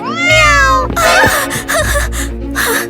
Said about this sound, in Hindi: ये तो सिर्फ बिल्ली है।